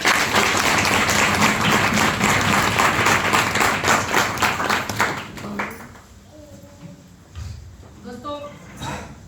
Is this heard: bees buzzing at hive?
no